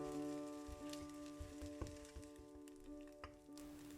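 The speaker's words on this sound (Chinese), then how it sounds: "等着鸡蛋慢慢炒熟" Egg frying in a pan for egg fried rice, a steady close sizzle with occasional scraping stirs and light taps of a utensil against the pan.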